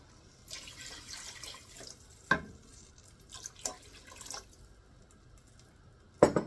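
Vegetable broth poured into a pot for sweet potato black bean soup, a faint liquid splashing and trickling with a few clinks, soft and close.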